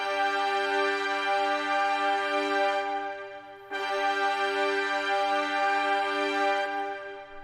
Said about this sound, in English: Alright, but the horns sound like this.